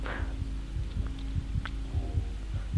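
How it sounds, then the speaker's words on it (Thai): A slow, deep, pounding heartbeat throbs steadily under a low hum in the horror game Among the Sleep, with faint eerie tones drifting above it. "ทำไมหัวใจเต้นแรง หัวใจเต้แรงอย่างนี้"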